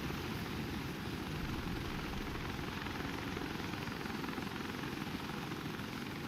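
Helicopter in the WARDOGS game, a loud, steady rotor and engine roar with a dense broadband wash, constant and close, with no talk over it.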